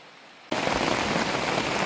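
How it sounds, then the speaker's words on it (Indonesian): Heavy rain pours down outside a tent in a Kalimantan forest camp, a dense, steady hiss that begins abruptly after a quiet moment and then holds loud and unbroken, with no voices. "Dan di luar hujan deras, sehingga kita tidak bisa beraktivitas lagi."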